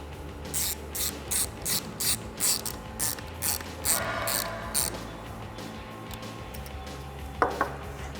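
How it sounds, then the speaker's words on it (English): A Torx driver ratchet tightens screws on a Jeep Wrangler JL vent panel, giving about a dozen quick, evenly spaced clicking bursts, quiet and close, followed by a couple of sharper taps. "Take my Torx, tighten them up."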